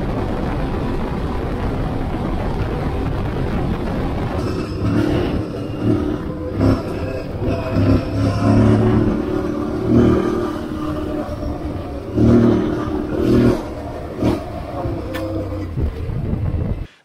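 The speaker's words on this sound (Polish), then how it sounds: "To, co teraz mnie urzeka, to jak ten motocykl jeździ, bo jeździ bardzo fajnie" Aprilia Tuareg 660 motorcycle being ridden: a continuous engine drone under steady wind noise, with repeated swells of revving and throttle changes throughout.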